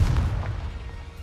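A deep, booming blast from the Confringo fire spell in the video game Hogwarts Legacy hits hard at the start, then its low rumble fades over about a second.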